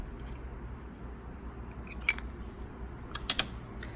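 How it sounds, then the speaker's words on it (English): Curved scissors snip yarn in punch needle work, two or three quick, close crisp cuts over a faint hum in an otherwise quiet room. "you just take your scissors, again, these curved ones are perfect for this, and you just snip off that piece that's too long"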